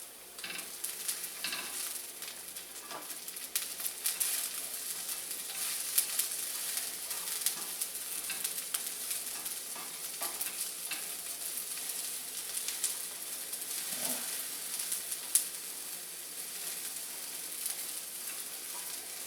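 Thin jalapeno slices sizzle steadily in a hot pan for a burger, searing until lightly burnt on one side, a continuous bright crackle with occasional pops, with no talking.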